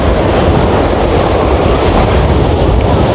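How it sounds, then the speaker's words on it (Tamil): Strong wind by the sea, a constant loud roaring rush with heavy buffeting on the microphone and surf blended into it, unbroken for the whole stretch. "நல்ல காற்று."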